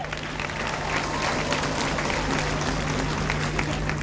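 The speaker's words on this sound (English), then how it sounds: "Let's give them a clap." Applause from an audience at a graduation ceremony honouring top graduates, a dense steady wash of clapping that holds evenly loud for the whole stretch over a constant low hum.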